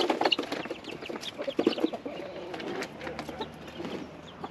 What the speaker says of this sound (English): That rooster's really interested in wanting to get in.